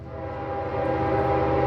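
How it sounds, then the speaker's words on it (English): Coal train horn, a steady sustained tone held for the whole stretch, moderately distant and gradually swelling in loudness. "That's a coal train. It's gonna honk its horn again."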